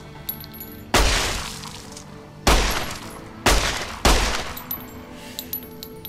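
Service rifle gunfire in Fallout: New Vegas: four loud, sharp single shots with crackling tails, spaced irregularly over a quiet background with faint clicks.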